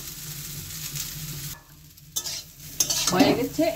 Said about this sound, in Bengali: আমি একটু ভেজে নিচ্ছি কারণ আজকে করলার পরিমাণটা একটু বেশি হয়েছে